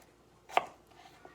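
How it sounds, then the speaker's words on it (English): One soft knife chop through peeled potato into bite-sized pieces, a single close thunk on a cutting board with a faint second tap after, otherwise quiet. "I like to cut them into bite-sized pieces"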